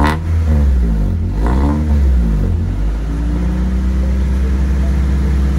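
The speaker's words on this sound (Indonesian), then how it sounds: "Gas sedikit Pak Jari." Engine of a budget JTCC-style touring car build revving in short bursts, rising and falling loudly up close, then settling into a steady smooth idle rumble.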